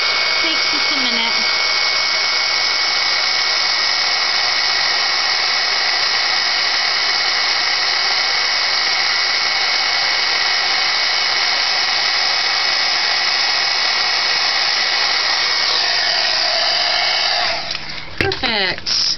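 A heat tool blows a loud, steady rushing whir as it melts white embossing powder on a paper tag. It runs unbroken for a long stretch, then cuts off at the end with a few clicks.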